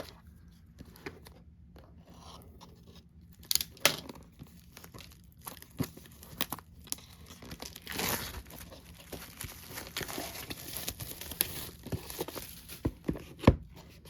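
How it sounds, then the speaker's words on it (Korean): Blue-version packaging of a solo album being torn open during an unboxing, with crinkling plastic and scattered tearing and rustling bursts close up and no talk. "파란색 한번 뜯어볼게요"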